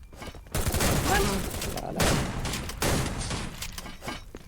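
Rapid bursts of gunfire in the shooter game Free Fire, loud and dense volleys coming in waves, with a voice talking beneath the shooting.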